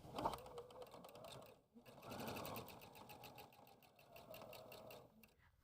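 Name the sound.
sewing machine stitching fabric rows together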